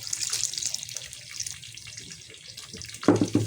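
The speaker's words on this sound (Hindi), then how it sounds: "थोड़ा पानी डाल के" Water trickles and splashes as it is poured into gram-flour batter for kadhi pakora, a soft running pour and faint drips, ending with a louder splash and mixing sounds close by.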